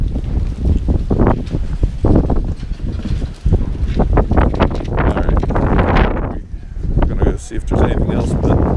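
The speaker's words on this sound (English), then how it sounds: "that wind is awful" Strong gusty wind on a cold day at an outdoor flea market buffets the microphone in loud, continuous roaring bursts, with voices talking underneath.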